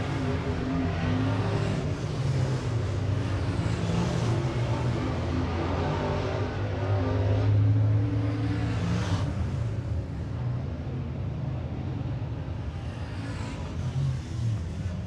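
A 604 crate late model race car, number 89, runs a qualifying lap at 411 Motor Speedway, its engine a steady broadband roar with a swell in the middle, heard alone with no talk.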